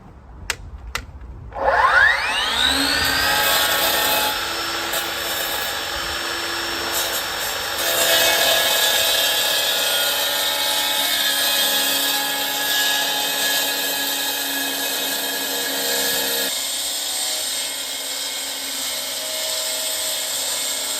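Battery-powered Makita saw starting up and cutting, a steady high whine that spins up quickly and holds for a long stretch, loud and close, with a slight drop in pitch near the end.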